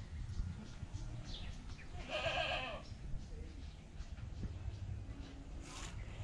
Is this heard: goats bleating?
yes